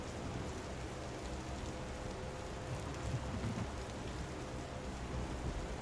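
Continuous video-game rain pours down in a broad, steady wash, with a faint low rumble like wind beneath it and no one speaking.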